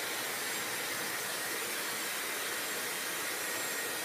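Hair dryer running steadily on its medium setting, a constant loud whooshing hiss of blowing air with no pauses.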